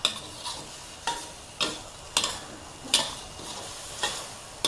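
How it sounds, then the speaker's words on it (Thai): Eggplant, crispy pork and basil are stir-fried in a large wok, with a steady sizzle under rhythmic scraping strokes of a spatula about twice a second, close up and with no talk. "กระทะใหญ่อีกแล้วจ้า ผัดให้โหระพาสุกนะคะ"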